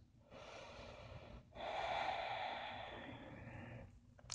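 Slow, deep breaths during a yoga practice: a soft inhale, then a longer, louder audible exhale through the nose that fades out, close to the microphone.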